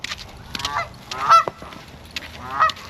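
Loud duck honking, a few harsh calls scattered over a few seconds, with one stronger burst in the middle and another near the end.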